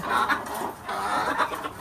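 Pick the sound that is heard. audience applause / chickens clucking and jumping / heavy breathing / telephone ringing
chickens clucking and jumping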